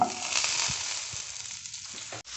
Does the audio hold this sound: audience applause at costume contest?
no